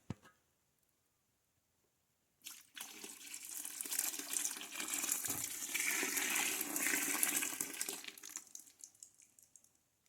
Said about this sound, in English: I'm going to go ahead and pour in that soap that we melted on the burner.